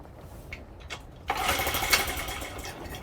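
A cold Honda Z50 minibike engine with the choke on is kicked over, with a few faint mechanical clicks before it sputters and briefly catches into a rough, uneven nearby buzz.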